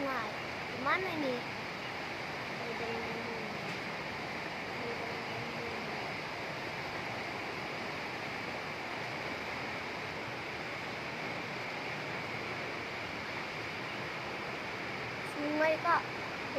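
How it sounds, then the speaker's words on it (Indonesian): Floodwater of a swollen river rushing through Medan Maimun during heavy rain, a constant broad roaring wash that stays steady and fairly distant, with a voice speaking briefly at the start and end. "Air sungai."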